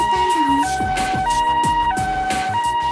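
Ambulance siren from a visual novel video game, a loud two-tone wail alternating rapidly and repeating at a steady pace, close and alone over a pulsing low background.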